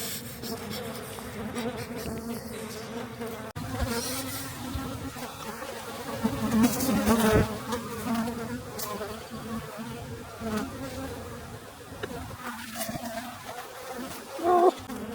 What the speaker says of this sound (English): these bees are pretty cranky